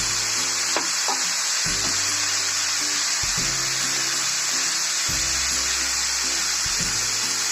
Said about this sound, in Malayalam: രണ്ട് സ്പൂൺ വെള്ളം ഒഴിച്ച്